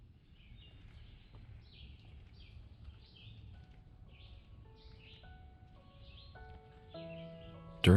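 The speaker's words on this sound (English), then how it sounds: "the sounds of chirping birds echoing" Birds chirp and call repeatedly in the Jewell Park woods, a series of faint, high twittering notes scattered over a low ambient rumble, with no talk.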